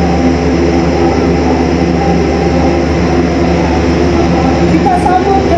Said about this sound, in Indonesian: Pesawat terbaru milik TNI Angkatan Udara Airbus 400M tiba di tanah air Senin pagi.